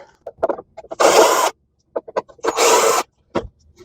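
A power tool backs screws out of the motor bucket of a Sebo Airbelt E3 Premium canister vacuum in two half-second whirring bursts, close up, with small clicks and handling knocks around them.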